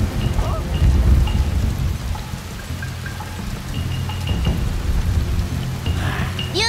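Steady rain and low rumbling thunder in the stealth game Shadow Tactics: Blades of the Shogun, a continuous wash of rainfall with deep rolling thunder underneath and small game interface chimes scattered over it.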